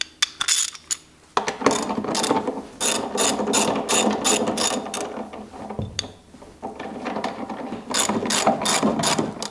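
Ratchet wrench backs off the lug nuts on a 2018-or-newer Jeep Wrangler JL wheel, with close, sharp bursts of rapid clicking separated by brief pauses.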